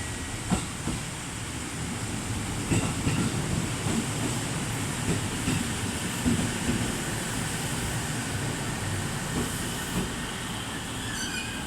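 A JR Central 313 series local train bound for Yokkaichi rolls into platform 13 at Nagoya station, a steady loud rumble of wheels with faint squeals and clicks, and a station announcement underneath.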